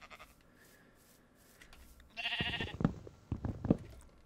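Sheep bleating in the Minecraft video game: a few short, close bleats and thumps arrive in quick succession after a quiet stretch, loud against faint background.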